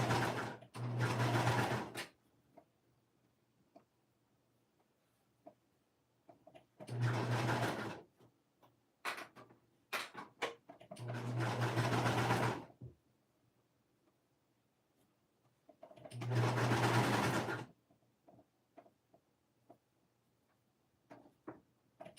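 Sewing machine stitching the sleeve of a child's peplum top in four separate runs of steady mechanical whirring, each a few seconds long, with quiet handling clicks and pauses between them and no talking.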